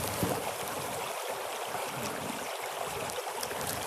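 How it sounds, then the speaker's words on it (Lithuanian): A small stream running beside a campfire built on stones in windy Iceland, heard as a steady broadband rushing wash with no voices, even in level throughout. "Paliukas šalia teka"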